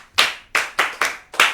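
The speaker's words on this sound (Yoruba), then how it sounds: "ẹ pàtẹ́wọ́ fún un" Five sharp, separate hand claps ring out in an uneven rhythm, close and fairly loud, from the audience at a Yoruba children's storytelling programme, with no talking between them.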